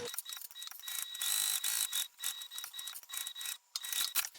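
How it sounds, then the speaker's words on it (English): A sewing machine stitches two fabric lining pieces for a small pouch, backstitching at the start and stop, giving a steady close mechanical whir with rapid ticking and brief pauses. "I'm going to sew around, back stitching when I start and stop to connect the 2 lining pieces only together"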